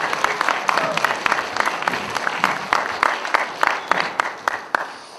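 Audience at a church retreat service breaks into clapping, a dense, steady round of applause with individual claps standing out and some crowd voices mingled in.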